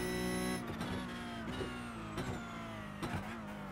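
Porsche 992 Cup race car engine in the iRacing simulator at Sebring, a loud continuous flat-six drone with rising revs broken by several sharp gear-shift dips, heard close up with no talk.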